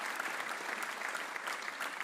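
Audience applause fills a live music livestream venue, steady dense clapping throughout, fairly close and sustained without a break.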